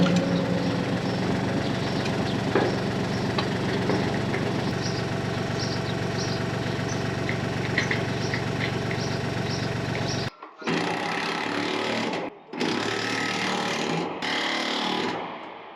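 A digger's diesel engine runs steadily at close range while it lifts a slurry tanker's bolted arm, with the steady drone briefly dropping out twice near the end.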